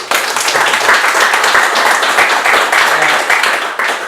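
Live podcast audience at a show in Seattle cheering and clapping, a dense, steady wall of crowd noise that holds loud for the whole stretch with whoops mixed in.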